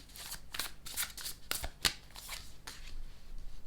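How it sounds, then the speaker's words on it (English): Tarot cards shuffled by hand in several quick riffling bursts, close and crisp, with no talking. "Let's shuffle and see what comes out for us."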